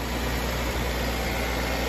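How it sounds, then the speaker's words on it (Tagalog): Mechanical Isuzu Elf 4HF1 diesel engine in a surplus Japanese truck, idling with a steady, dense low rumble and vibration, close to the microphone and with no talk. "4HF1 mechanical engine na change oil, na tune up."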